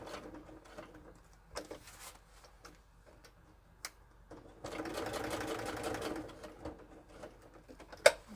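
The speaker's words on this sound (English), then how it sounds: "And we're going to sew down our stars." A sewing machine stitches down appliqué fabric stars. Short bursts of quiet mechanical whirring come with pauses between them, followed by one longer run of stitching and a few faint ticks and clicks.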